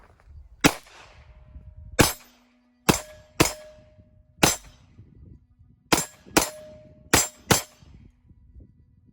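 Nine sharp, loud pistol shots from a Polymer 80 Glock-style build, spaced irregularly about a second apart, each with a brief ringing tail, fired up close with no voices.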